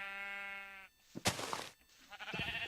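A sheep bleats in the Minecraft video game, a single drawn-out electronic bleat followed by a burst of breaking and hitting sounds as the animal is struck.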